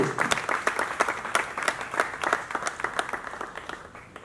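Conference audience at an inaugural lecture on contemporary African art applauds to welcome someone speaker: a dense, steady burst of many hands clapping close by, fading slightly toward the end, with no voices over it.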